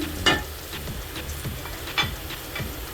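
Cardamom and bay leaves sizzling in hot oil in a pan for chicken biryani, a soft, steady crackle punctuated by a few sharper pops and stirring clicks, close and moderately quiet.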